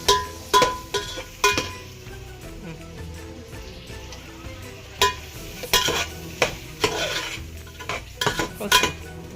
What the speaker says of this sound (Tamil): தக்காளி எல்லாம் மசிட்டோம்.